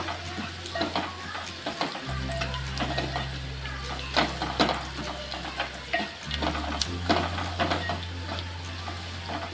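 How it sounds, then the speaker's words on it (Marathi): Onion with chicken masala and asafoetida sautéed in a pan: continuous soft sizzle with scraping, stirring strokes of a spoon against the pan, close and steady, no voices. "आता हे आपण व्यवस्थित असं एकदा परतून घेऊया."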